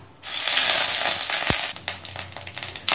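Ginger paste hits hot mustard oil in a kadai with a loud, close hiss and roar of frying. After about a second and a half it settles into softer sizzling, broken by spoon scrapes and stirring clatter.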